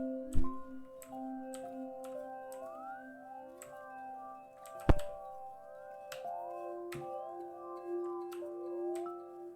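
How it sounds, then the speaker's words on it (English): A soft, dreamy bell melody from the Bell Cinemira preset in a sample pack plays gliding chime notes over a light ticking percussive pattern with a couple of sharp clicks, fairly quiet and without voices. "It's called the Bell Cinemira."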